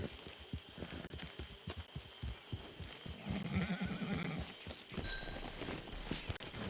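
In the video game Red Dead Redemption 2, a horse neighs over steady clip-clopping hooves that pass close by, with a few light clatters and some background ambience.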